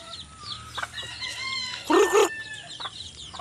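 Backyard chickens cluck softly in the background while a rooster lets out a loud crow nearby, with scattered bird chirps around.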